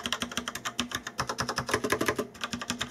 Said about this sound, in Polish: takie głośne klikanie,